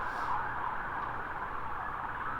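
A siren from an ambulance or police vehicle with blue lights wails in a steady rising-and-falling tone on an Alabama road, moderately distant and continuous, with no talk over it.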